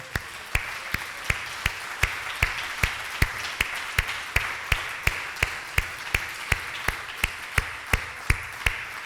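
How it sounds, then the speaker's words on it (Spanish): A church congregation applauds steadily during a Sunday service, a dense wash of many hands with a few sharper claps standing out at a regular beat, sustained evenly throughout. "Merece un aplauso a nuestro Jesús"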